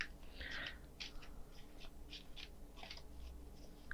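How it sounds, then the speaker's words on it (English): Tarot cards are shuffled in quiet, close, intermittent bursts of soft riffling and slapping, with brief pauses between them and no talking. "let's shuffle just a little bit more."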